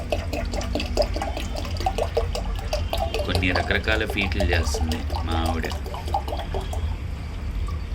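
Rice water pours continuously into a container, a steady splashing flow that lasts the whole time beneath a voice speaking close by.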